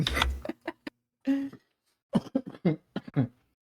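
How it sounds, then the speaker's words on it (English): A throaty cough or throat clearing at the start, followed by short bursts of quiet speech-like sounds with pauses between. "excuse my cough"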